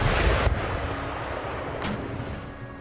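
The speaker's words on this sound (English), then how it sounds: "my artillery, foot artillery is lobbing shells over the walls at the enemy artillery." Foot artillery in Empire Total War lobbing shells over fort walls, heard as a continuous rumbling barrage of booms with a heavier blast at the start and another around the middle, dense and loud throughout.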